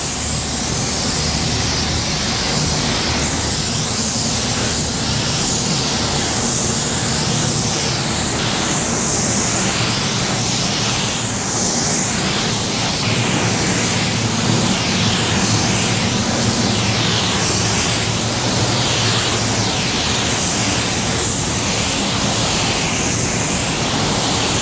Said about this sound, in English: Now we're about to spray some base.